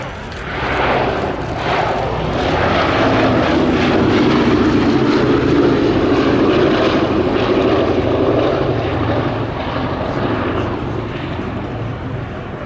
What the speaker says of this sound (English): Sally B itself, as I said, a B-17G model that was built by the Lockheed Vega plant in Burbank, California.